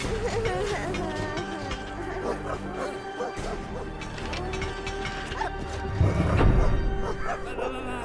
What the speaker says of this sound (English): Bad robot doggy.